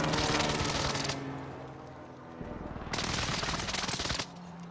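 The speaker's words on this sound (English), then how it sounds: "Call for fire. This is Phoenix 3. Strike inbound." Precision airstrike in a video game, heard as two loud rapid bursts of crackling automatic fire with a hum between them, fairly close.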